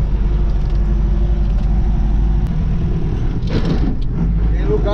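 A truck engine rumbles steadily and loudly while the truck maneuvers into a campsite at Morro do Fogão in Itirapina, São Paulo, with a brief burst of clattering noise near the end.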